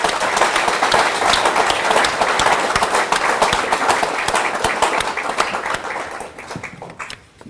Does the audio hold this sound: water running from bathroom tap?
no